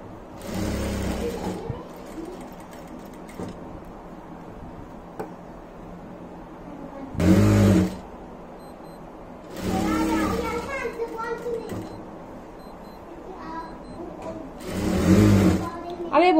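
A sewing machine stitches fabric for a net vegetable storage bag in short separate runs, each a loud close whir lasting a second or two, with quiet handling and soft talk in between.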